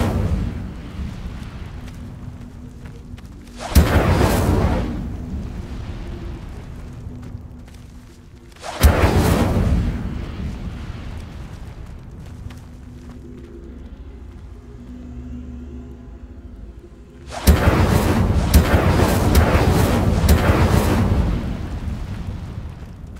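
Incendio fire spell bursts in Hogwarts Legacy, three loud whooshing, rumbling blasts with the second and third fading slowly, separated by quieter low rumble and ambient game sound.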